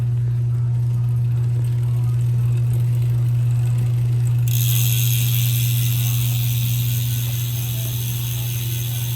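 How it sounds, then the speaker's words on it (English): Freehub ratchet on a DT Swiss G540 wheel of a 2021 Specialized Diverge Sport gravel bike clicks as a dense, steady buzz, growing brighter and louder midway, over a constant low hum. "Free body sound test on this wheel right here"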